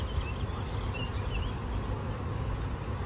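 Honeybees buzz around an open hive frame during queen rearing, a dense steady droning hum from many insects close by, continuous and fairly quiet with no talking.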